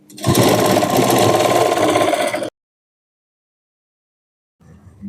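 A sewing machine stitches a knee-length frock in a loud, close, steady mechanical whir for about two seconds. It stops abruptly, followed by silence and a faint return of sound near the end.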